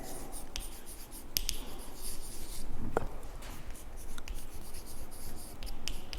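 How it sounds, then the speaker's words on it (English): Chalk or marker scratches and taps across a classroom board during a chemistry lesson on reaction kinetics, a steady close scraping rhythm with sharp clicks, no talk over it. "I will write here."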